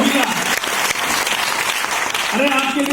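An audience claps in a dense, sustained burst of applause that fills the whole stretch, with a voice briefly heard over it at the start and end.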